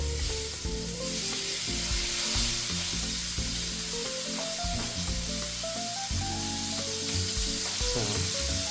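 Seasoned food sizzles and fries in a hot pan, a loud continuous crackle with stirring and scraping sounds layered over it and no voices.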